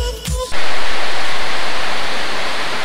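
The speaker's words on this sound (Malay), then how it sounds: "Hujan guys, hujan." Heavy rain pours down outdoors, a loud, steady broadband hiss that starts abruptly after a short stretch of other sound and continues unbroken.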